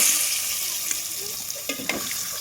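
Mutton pieces fry in oil with turmeric and green chilli, giving a loud, bright sizzle with a few stirring scrapes and knocks near the end.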